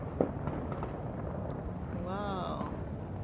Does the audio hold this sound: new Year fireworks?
yes